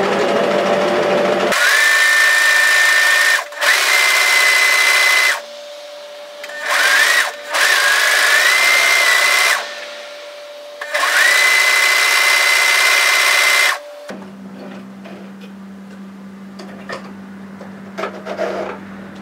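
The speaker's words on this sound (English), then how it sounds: "go to your cover seamer or twin needle and turn that under and stitch it" A cover seamer or twin needle sewing machine stitching down a turned hem on a wrap hoodie, running loud and close in several steady whirring bursts with short pauses, then stopping to a quieter low hum.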